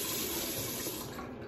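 Tap water runs steadily into a sink during a face-washing routine, a continuous hissing splash at moderate level with no voices.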